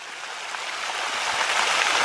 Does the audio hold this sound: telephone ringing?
no